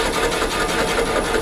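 A woodturning gouge makes a bevel rubbing cut on a spinning lathe workpiece, giving a steady, close, raspy shearing hiss with a regular rotational pulse.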